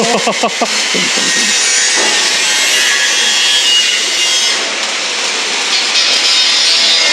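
Electric arc welding on steel plates: a steady, loud crackling hiss runs nearly unbroken for several seconds, with a brief voice exclamation at the very start.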